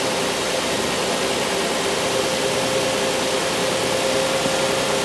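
A Chrysler Pacifica with an erratic speedometer rolling in gear at about 7 mph, a steady broadband engine and road drone with a faint constant tone, even and unbroken, no talking.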